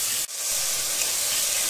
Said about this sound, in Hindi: सब्जियों को हम थोड़ा सा भूनेंगे, यानी कि 5 मिनट तक सॉफ्ट होने तक।